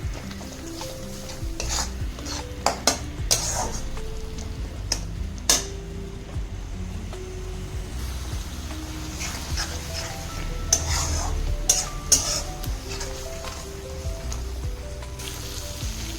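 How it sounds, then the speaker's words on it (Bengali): Spice paste (masala) for a Bengali rui fish curry being stirred with water in a pan, with repeated scraping strokes of a spoon over a continuous sizzle and occasional sharp clinks against the pan, no speech. "মশলাটাকে আমি অল্প অল্প করে জল ঢালবো, ঢেলে ভালো করে এটা নেড়ে নেব।"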